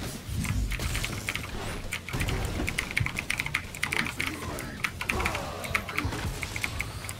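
Rapid computer keyboard keys clatter in dense bursts while someone plays the fighting game Killer Instinct, close and loud, with voices talking over the typing.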